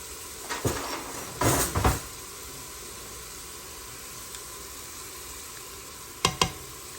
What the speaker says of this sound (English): I'm going to go ahead and add my 2 tablespoons of minced garlic.